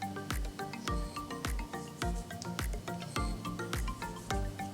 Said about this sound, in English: it's best to go in with a whisk to whisk it up